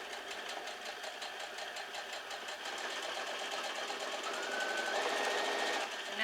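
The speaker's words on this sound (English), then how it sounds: "I'm going to start sewing" A sewing machine runs steadily while stitching a quilt block, a continuous rapid mechanical whir that holds level and grows slightly louder toward the end, with no talking.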